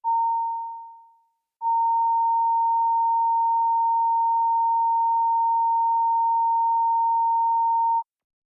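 A steady sine test tone for a sound check in Committee Room 29 gives a short burst that fades away, then a brief gap, then a long, even, unbroken pure tone at constant loudness with nothing else audible.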